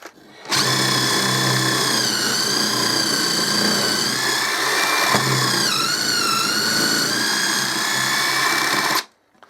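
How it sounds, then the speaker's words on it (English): An 18V impact driver spins a 7mm quarter-inch hex drill bit through material, giving a loud, steady, close-up whine that holds for about eight seconds and wavers slightly in pitch midway before stopping. "It's got no problem in drilling through material with the bit on an impact driver."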